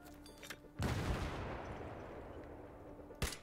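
A grenade blast in the shooter game Battlefield bursts suddenly and loudly, then a rumbling rolls away for a few seconds before another sharp crack at the end.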